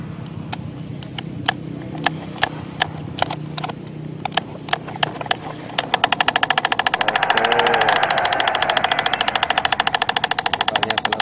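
A miniature farm machine's small engine is hand-cranked with a series of spaced clicks, then catches and runs with a fast, steady chattering putter that swells in the middle.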